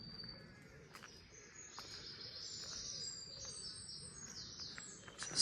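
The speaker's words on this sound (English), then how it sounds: "hopefully you can hear plenty of bird song in the background" Scattered bird chirps and calls sound faintly outdoors near Ventnor on the Isle of Wight after overnight rain, over a soft background hiss, with a louder chirp near the end.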